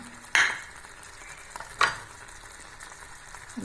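Curry leaves dropped into hot tomato masala for a cauliflower varuval, giving two sharp crackling bursts that ease into a steady low sizzle, close by and with no talking.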